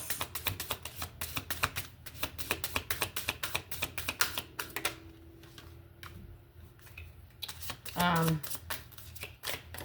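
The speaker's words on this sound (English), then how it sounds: "I'm going to pull from a few different Oracle cards" Oracle cards being shuffled by hand, a fast run of crisp flicks and riffles close to the mic, then slower taps and slides as cards are pulled, with a voice talking faintly under it.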